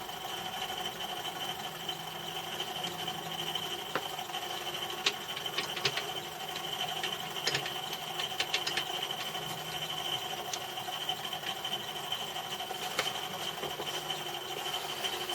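A metal lathe turns a metric end cap held on a mandrel while a parting-off tool cuts into it: a steady, fairly loud mechanical hum with high ringing tones and occasional faint ticks, no voices.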